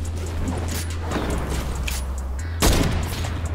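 Gunfire in Fortnite, a busy barrage of game shots and impacts over a constant low hum, with one sharper, louder blast near the end.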